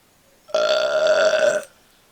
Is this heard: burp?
yes